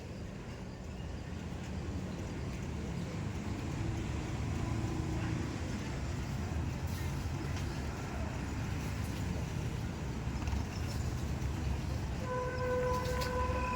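A manual car reversing in back gear during a driving lesson, a steady low engine and road rumble that fills the whole stretch, with a few short steady tones near the end.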